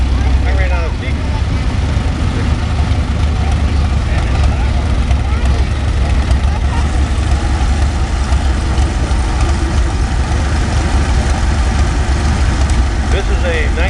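A 1963 International 706 diesel tractor rolls by in a parade, its heavy engine a loud, continuous low rumble close at hand, with voices and crowd noise mixed in throughout.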